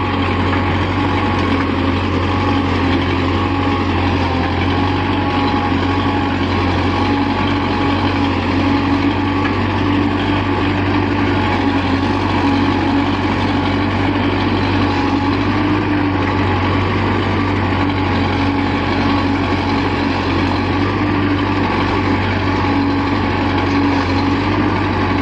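A Belarus MTZ 50 tractor pulls an 11-tine cultivator in a farm field, its diesel engine droning loud and close in an unbroken, steady chug for the whole stretch.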